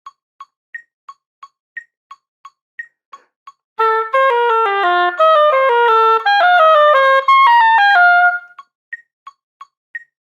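Oboe playing the opening of 2022 TMEA All-Region Etude #18 in strict tempo with no slowing into the first breath, entering after a run of metronome ticks; a bright, close phrase of connected notes, then ticks resume.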